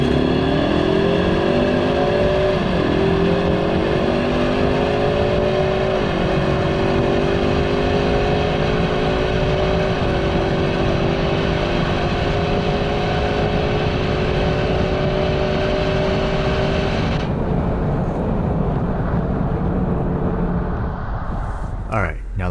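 A 310-horsepower 2.3-litre Ford Mustang EcoBoost in track mode with full manual shifting accelerates hard and loud. The engine note climbs steadily through each gear, drops briefly at every shift, then cuts off near the end.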